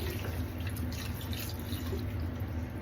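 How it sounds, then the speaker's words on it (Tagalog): Water splashes and trickles into a pot of chicken wings nearby, a soft continuous pour with light dripping over a low background hum. "Lagyan natin siya ng tubig."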